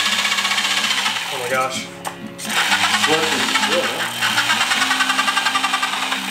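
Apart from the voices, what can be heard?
power tool cutting sheet metal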